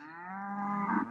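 Cattle out in a pasture give one long, drawn-out moo. It is close and fairly loud, with a steady pitch that swells toward the end.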